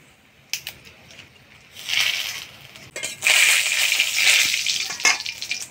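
Whole garam masala, cloves, cinnamon, cardamom, dried red chillies and bay leaf hit hot oil in a pan, crackling into a loud, sustained sizzle after a few scattered clinks and stirring sounds.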